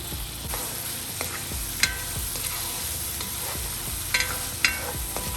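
Onions and tomato sautéing in a pan for chicken curry give a steady low sizzle with scraping stir strokes and a few sharp utensil clicks, close and continuous.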